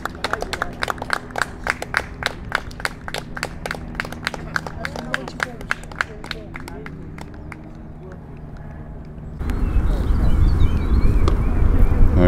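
A cricket crowd at a Palmers CC season-opener match claps for a batsman's century, a fairly close burst of sharp, irregular claps that thins out and fades, then gives way to wind noise.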